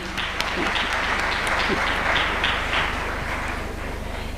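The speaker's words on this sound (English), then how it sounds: "A big round of applause to their excellencies" Loud, sustained applause from a large summit audience fills the hall, a dense even roar of clapping that holds steady for several seconds before gradually easing toward the end.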